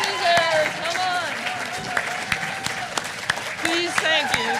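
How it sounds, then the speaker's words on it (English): An audience at a public talk applauds steadily, with clapping, scattered whoops and voices mixing into a lively crowd sound. "really give Roger the applause that he deserves for all of it"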